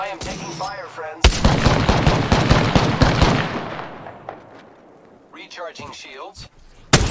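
Heavy gunfire in an Apex Legends match, a loud sudden burst of rapid automatic shots that rings out and fades, with further sharp bangs, while a character voice speaks over it.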